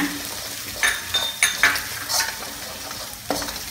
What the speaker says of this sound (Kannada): ಪೇಸ್ಟು ಸ್ವಲ್ಪ ಹುರಿದು ಇದನ್ನ ಹಾಗೆ ಕೊತ್ತಂಬರಿ ಬೀಜದ ಪುಡಿ ಜೀರಿಗೆ ಪುಡಿ